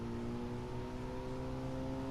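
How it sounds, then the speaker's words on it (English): A racing video game car engine drones steadily in a low, continuous hum at moderate distance, running without a break throughout, with no talk over it. "Hey, I can hear the engine a little bit."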